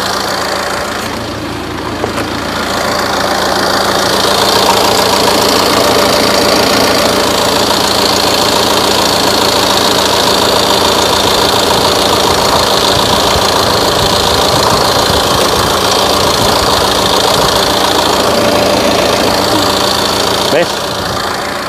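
A warm Tata Aria 2.2 turbo diesel engine idles steadily with a low, even rumble and faint knocking clatter for about twenty seconds, close and constant, with people talking over it.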